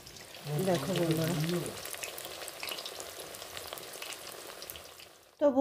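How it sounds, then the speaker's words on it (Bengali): Eggplant slices in gram-flour batter (beguni) frying in hot oil, a soft continuous sizzle with some clinking at first and a brief louder bump at the end. "এইভাবে সবগুলো আমি ভেজে নেব।"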